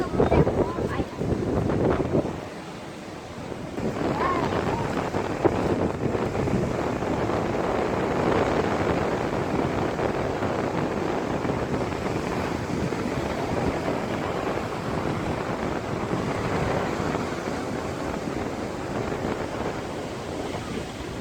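Seaside wind buffeting the microphone at a beach, with surf rolling steadily behind it; voices talk over the constant roar.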